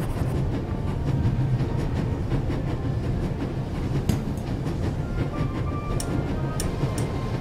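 Train rolling along rails in a video game, a continuous low rumble with faint rhythmic clatter and occasional light clicks, steady and moderately quiet, with no voices.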